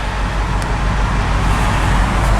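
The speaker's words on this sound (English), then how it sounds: "I'm getting into some traffic here." Steady road traffic rumbles from inside the cab of a 1984 K20 pickup truck driving in construction traffic on I-70 East in Illinois, a loud continuous engine and tire drone with no speech.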